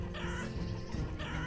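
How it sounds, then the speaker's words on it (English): Chickens cluck in a farming settlement in the city-builder game Banished, several birds overlapping in a dense, steady flock chatter that fills the short stretch without any talk. "That's a lot of chickens."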